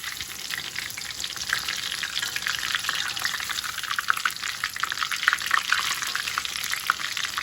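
Batter-coated prawn bajji fry in oil over a low flame, a close, steady hiss of fine crackling bubbles with occasional sharper pops, continuous and fairly loud with no voices.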